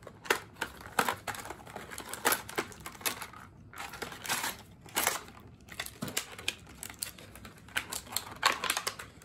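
Packing tape ripped and peeled off a Magic 8 Ball package in short, crackly bursts, several quick tearing pulls close to the microphone with brief pauses between them.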